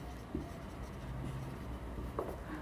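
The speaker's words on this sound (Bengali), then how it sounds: "এটাকে লিখি" Pen on paper writing out a trigonometry maths equation, faint continuous scratching with a few small taps, quiet and close.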